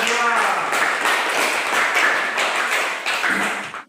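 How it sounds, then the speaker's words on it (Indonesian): A classroom of students in Indonesia claps for a group that has just presented, a brisk, close burst of hand claps lasting a few seconds and stopping abruptly at the end. "Tepuk tangan bagi kelompok 2."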